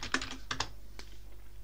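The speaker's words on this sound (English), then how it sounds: "we're going to type in the password." Quick bursts of close computer keyboard keystrokes while a password is typed, a few clustered clicks followed by a final single tap, with no talking.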